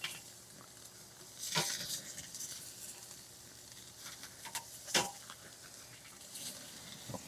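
New York strip steaks sizzle steadily on a hot charcoal grill, a faint continuous hiss punctuated by a few sharp louder crackles, with no talking.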